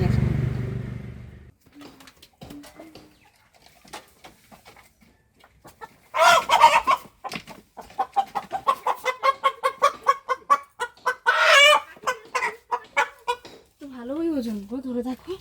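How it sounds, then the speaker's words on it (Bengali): A large broiler rooster clucks and squawks in short, rapid bursts while being caught on a farm, with scuffling in between, loud and close, ending in a drawn-out cry. "তা একটা ওখান থেকে মুরগি ধরে নিয়ে আসি"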